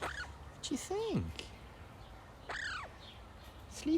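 A pet bird gives a few sharp, rising-and-falling calls, close by and fairly loud, spaced apart with quiet room sound between.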